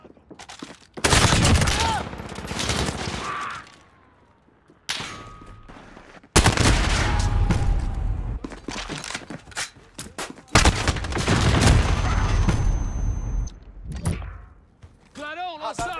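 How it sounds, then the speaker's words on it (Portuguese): Heavy gunfire rips through a multiplayer shooter match in long, loud automatic bursts broken by short pauses, with a voice speaking briefly between the volleys. "Estão atirando em mim."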